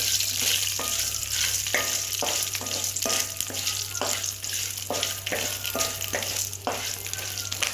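Garlic cloves sizzle steadily in hot oil in a pan while a Tamil drumstick leaf chutney cooks, with a spoon scraping in regular strokes over a constant low hum; no talking.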